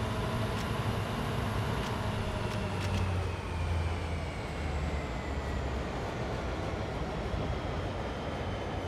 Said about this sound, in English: Pulling these wagons to the end.